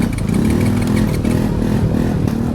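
A motorcycle engine that keeps stalling cranks and catches again via its self-starter, a steady loud mid-pitched running rumble with slight revving surges, heard up close with no talk.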